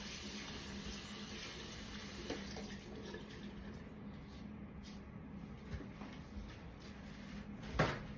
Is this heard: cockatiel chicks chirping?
no